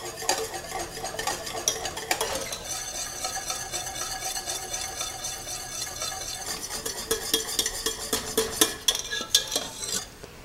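A spoon scrapes and clatters around a pot of boiling strawberry jam, steady stirring strokes close by with metallic knocks and a bubbling undertone, no voices.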